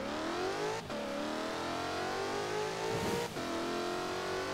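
A car in the racing game Forza Horizon 4, wet weather, 550 hp on off-road tyres, accelerates hard in one continuous engine roar whose pitch climbs steadily, broken by two quick gear shifts, loud and close with no talking.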